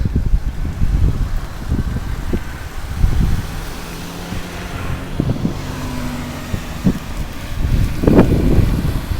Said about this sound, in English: It's now cold and windy and raining,